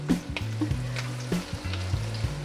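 Onions frying in a pan for a South Indian village-style fish curry give off a steady close sizzle, broken by short scrapes and knocks of stirring.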